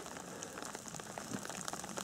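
Steady rain patters on leaves and moss in a damp forest in the Vosges, a soft dense hiss of drops heard fairly faint and alone.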